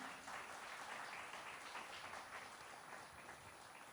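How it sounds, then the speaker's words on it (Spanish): A church congregation claps at a Spanish-language sermon on family, a continuous wash of applause that holds steady throughout and eases slightly toward the end, with no voices on top. "Denle un aplauso fuerte al Señor."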